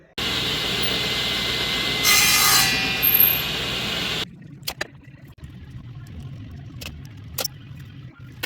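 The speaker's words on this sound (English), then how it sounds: "I'm going to take this dowel, cut it in half" A steady handsaw rasps through a wooden dowel for several seconds, then stops, followed by a few sharp knocks and light handling noises.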